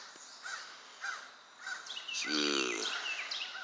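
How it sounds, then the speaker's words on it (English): Crows cawing outdoors at dawn, with several separate harsh calls spaced apart at moderate distance over quiet background hiss, followed by a longer, louder cluster of caws. "Got some crows going on."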